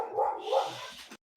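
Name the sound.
dogs barking in a video game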